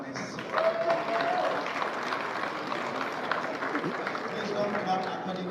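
A crowd at a comedy show claps for a comedian in a steady wash of applause that runs throughout, with voices mixed in underneath.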